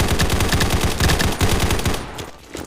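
Rapid automatic gunfire from the first-person shooter Combat Master, solo rush mode, a dense burst of loud repeated shots that stops abruptly and leaves a quieter tail, with no talk.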